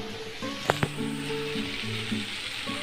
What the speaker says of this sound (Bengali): বিট ভাজা করছি